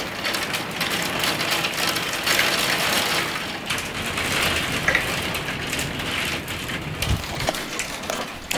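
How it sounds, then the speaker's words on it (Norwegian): Hail falling outside at night during a storm with snow and lightning, a steady, dense patter and hiss with no voices. "det hagler, og det lyner."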